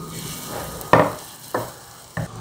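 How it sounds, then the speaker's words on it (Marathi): Besan batter hits a hot oiled griddle in three short bursts of sizzle, each a sharp hiss fading quickly, close and fairly loud, with no talk. "आणि पळीने असं छान पोळा टाकून घ्यायचा"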